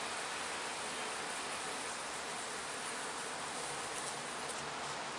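Steady, dense buzzing of honeybees at a hive colony, continuous and fairly loud throughout with no talking.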